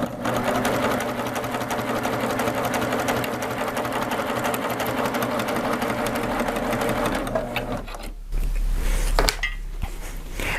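Baby Lock Applaud sewing machine stitching steadily at a constant motor hum with rapid needle rhythm, then stopping near the end followed by a few clicks and light handling noises.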